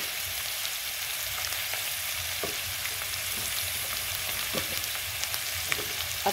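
Onions added to lean pork cubes frying in a little oil for Bicol Express, a steady close sizzle with occasional stirring clicks and no talk.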